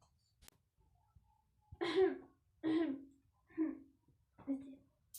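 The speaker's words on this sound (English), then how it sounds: "Oh, don't cough" Four harsh coughs in a row from a stage play of The Importance of Being Earnest, spaced about a second apart, close and clear against near silence.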